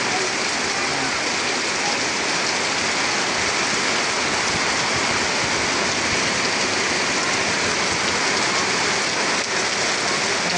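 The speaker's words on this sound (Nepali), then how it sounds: "उता रोडमा एकदम पानीको गति चाहिँ पुरा खोला जस्तो भइरहेको छ" Heavy rain pours steadily and loudly, with a dense, unbroken wash of water as runoff rushes along a road like a stream, continuous for the whole stretch.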